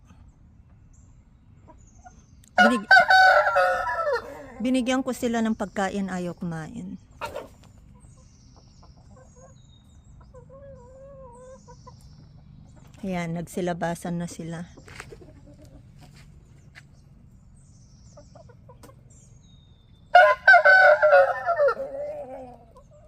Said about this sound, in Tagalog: Tinitignan itong mga manok. American chicken.